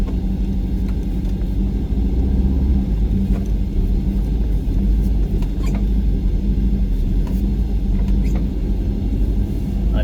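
The engine of a 1986 VW Syncro van idles with a steady low rumble that fills the cabin, heard from inside the vehicle, constant and fairly loud, with no speech.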